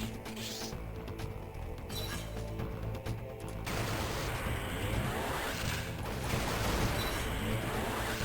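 Gunfire from Metroid Prime Hunters multiplayer on the Nintendo DS, rapid bursts of electronic shots and blasts over a dense game soundtrack, fairly faint and continuous throughout.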